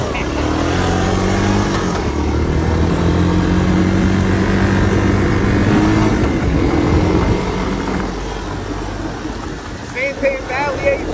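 A Honda ATC 250sx three-wheeler with a semi-auto clutch ridden under the Arizona summer sun: a loud, continuous close engine drone that eases slightly toward the end.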